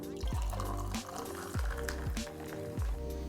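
Hard seltzer being poured, liquid splashing and fizzing steadily into a glass beneath background music.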